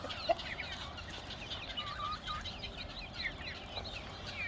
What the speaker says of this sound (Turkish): Bak makarnayı da tavuklar hemen bitmeye başladı.